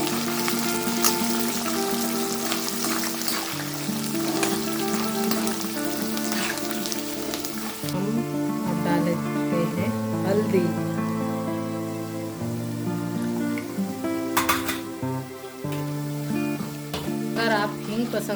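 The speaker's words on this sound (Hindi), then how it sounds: "तो ये देखिए हमारे कोकोनट वगैरह अच्छे से गोल्डन फ्राई हो चुकी है।" Grated coconut and curry leaves frying in hot oil give a steady, fairly loud crackling sizzle throughout, with occasional clinks of stirring.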